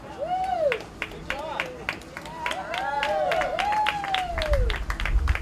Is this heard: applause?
yes